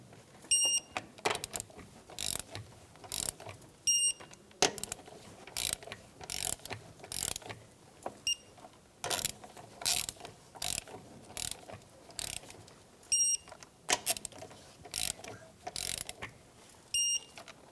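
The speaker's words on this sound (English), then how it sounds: "Torque spec is 100 foot-pounds. 19mm socket, and we will go in a star pattern." A torque wrench with a 19mm socket tightening wheel nuts on a 2007-2017 Jeep Compass during a rear brake job, heard as repeated close ratcheting bursts in an irregular rhythm, with occasional faint high beeps.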